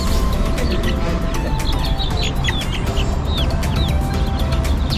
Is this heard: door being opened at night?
no